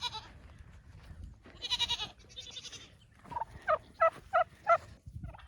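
Goats bleat on a small farm with hens nearby, several loud, quavering calls arriving in a quick run of separate bursts after a stretch of softer mixed animal noise and rustling.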